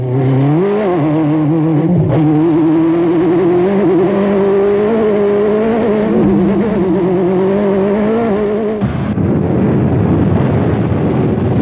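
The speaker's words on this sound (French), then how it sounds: "j'accompagne la voiture en donnant des coups d'accélérateur." Car engine close up, revved hard with repeated throttle blips: a loud, sustained rising and falling drone through the gears, then an abrupt drop to a rougher, broadband roar near the end, with no talking.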